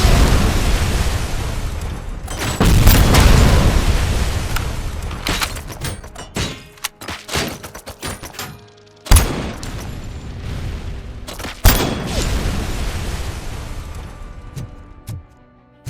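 Rocket launcher blasts and gunfire from the RoboCop Rogue City video game: a dense string of loud, booming explosions and sharp bursts, with heavy impacts around 3, 9 and 12 seconds over rumbling background.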